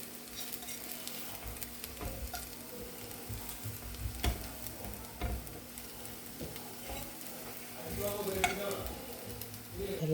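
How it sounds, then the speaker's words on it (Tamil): Veg bread burger patties frying in hot oil with a steady sizzle, occasional stirring scrapes and a few sharper knocks as they are flipped, close and continuous. "ஒரு சைடு பொரிச்சாச்சு. இன்னொரு சைடு திருப்பி போட்டுக்கலாம்."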